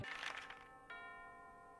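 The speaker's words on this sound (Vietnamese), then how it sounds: "Bỗng tiếng chuông từ tháp đồng hồ lại vang lên." A clock tower bell in an animated film strikes with a bright metallic clang, then a second strike follows. Each strike leaves a long ringing tone that slowly fades. The sound is fairly quiet and heard alone.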